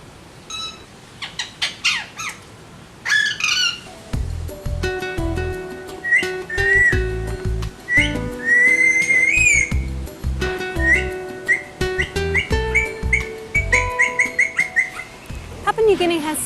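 Several garden birds sing close by at Port Moresby Nature Park in Papua New Guinea, with repeated whistles, chirps and warbled phrases layered over one another and steady calling throughout.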